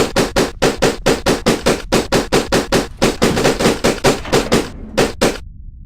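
A paintball gun in the GameCube game Die Hard Vendetta fires a long, rapid, evenly spaced string of loud, sharp shots, pausing briefly near the end before a last few pops and a fading tail.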